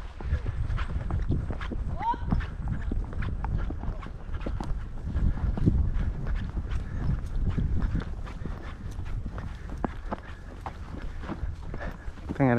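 Hooves clop steadily on the ground in an uneven walking rhythm, fairly close, with background noise and occasional voices.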